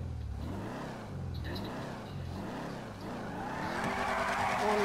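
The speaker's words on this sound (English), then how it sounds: "I don't know if a drag car is supposed to be drifting" In GTA 5, a drag car drifts with rising engine revs and a growing tire squeal over about five seconds, getting louder near the end, with no one talking.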